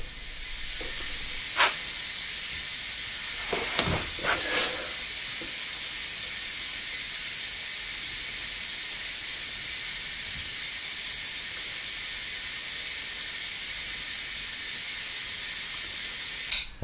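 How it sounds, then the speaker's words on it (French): Air compressor hose pressurizing a brake fluid reservoir through a rim valve fitted in the reservoir cap on an Audi A8, a steady loud hiss of air running continuously with a few brief clicks and knocks early on. "compresseur branché sur un bouchon de bocal de liquide de frein dans lequel j'ai inséré une valve de jante"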